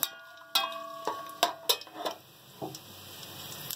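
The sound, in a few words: soaked rice being added to the pot with fried garam masala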